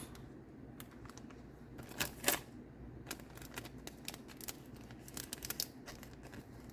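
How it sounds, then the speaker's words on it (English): Packing tape applied to seal a sheet, faint and close: a quiet run of short crackles, ticks and taps, with a few louder snaps in the middle. "And then I would use my packing tape or some other clear tape"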